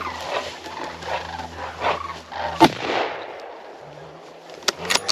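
Gunfire during a bear hunt: one sharp, loud shot cracks out mid-clip, then two more shorter reports near the end, over outdoor background noise with a dog-like sound in the mix.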